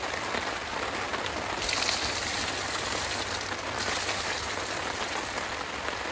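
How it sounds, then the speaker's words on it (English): Heavy rain pours steadily on a mountain, a dense, even hiss of drops drumming on surfaces, close and continuous without pause. "We got a lot of rain right now"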